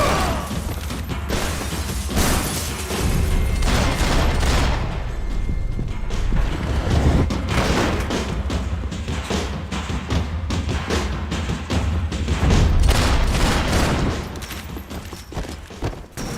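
Sustained gunfire in the Max Payne 3 video game, with dense, loud bursts of shots and impacts packed close together for most of the stretch, then easing slightly toward the end.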